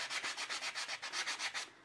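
A resin piece is hand-sanded to knock off burrs, the close, loud scratchy strokes running in a steady back-and-forth rhythm of about a dozen passes with no talking.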